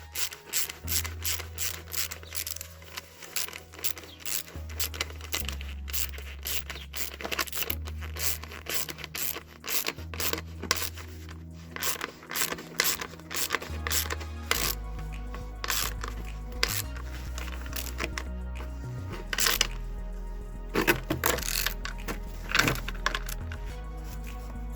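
A socket ratchet tightens a lightning protection bond in a workshop, giving rapid repeated clicking ratchet strokes, fairly close and steady, with a low hum in the background.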